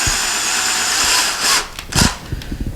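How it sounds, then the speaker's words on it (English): A power drill fitted with a very small bit whines steadily as it bores into a wall where a towel hook will hang, then cuts out into short bursts and stops. "put your drill on it, and drill very, very slowly."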